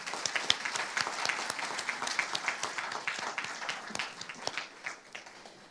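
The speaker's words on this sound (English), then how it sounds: "let's give them another round of applause" An audience claps at a banquet, a fairly quiet, steady patter of many hands that goes on throughout, with a few sharper claps standing out near the listener.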